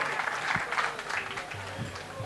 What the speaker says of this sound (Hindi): जोरदार तालियों से अपना आशीर्वाद इस कन्या को दीजिएगा।